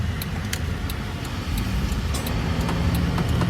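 A 2011 Jeep Liberty with a 3.7 liter engine accelerates smoothly, a steady low engine drone with road and tire noise heard from inside the vehicle, no talking.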